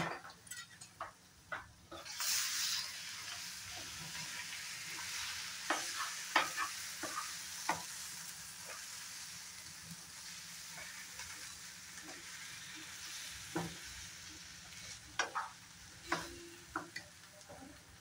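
Masala chicken with tomato sauce stirred in a pan, a spoon scraping and knocking against the metal over a steady sizzle, loud at first and then settling into a continuous fry with scattered clinks.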